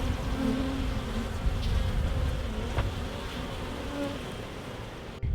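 Honey bees swarm around an open hive during an inspection, a dense continuous buzzing close by with individual bees droning past, steady in loudness throughout.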